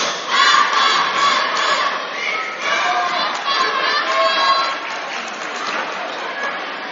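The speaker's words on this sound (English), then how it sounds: "Not a bad crowd here for us tonight." Crowd noise in a high school gym at a varsity boys basketball game, a loud, steady roar of cheering and shouting voices that swells early and eases slightly toward the end.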